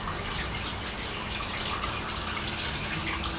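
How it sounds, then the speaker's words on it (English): Liquid poured into a machine runs down into its sump, a steady rushing, gurgling flow that stays close and fairly loud for the whole stretch with no talk over it. "I can hear her flowing down into the sump."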